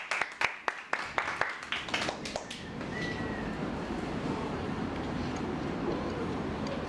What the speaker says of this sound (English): I would like everyone to please give a round of applause to Mr. Mercado on behalf of the operations department